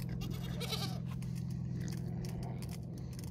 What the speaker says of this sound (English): What are you doing, goats?